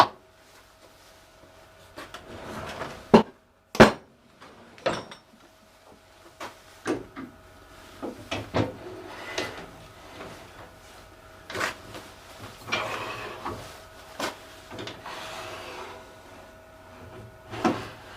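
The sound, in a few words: threading wooden acorn tops with lathe threading jig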